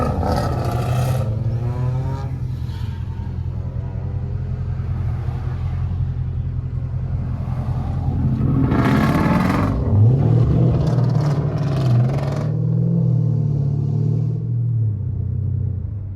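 Widebody Scat Pack Mustang engine in a VR driving game, a loud, close, deep rumble that swells into a roaring rev around the middle before settling back to a steady heavy drone.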